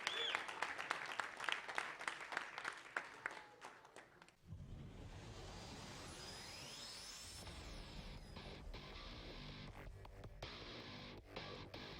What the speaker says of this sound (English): Big round of applause for Lorenzo Benavides.